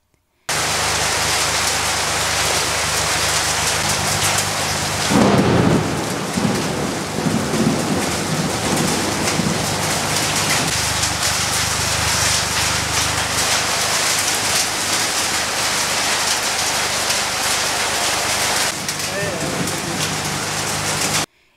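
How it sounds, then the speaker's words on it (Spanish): Heavy rain and wind-driven hail pound house roofs during a thunderstorm in Estelí, Nicaragua, a loud unbroken roar with a thunder rumble swelling near the middle and again toward the end. "las intensas corrientes de viento provocaron un estruendoso sonido al impactar el granizo contra los techos de las viviendas"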